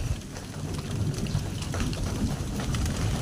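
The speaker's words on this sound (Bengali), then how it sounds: "এই দেখো, আস্তে আস্তে আমি ভেজে নিচ্ছি আলুটা" Potato pieces fry in oil with salt and turmeric, giving a dense, steady sizzle like heavy rain that stays loud and even throughout with no talking.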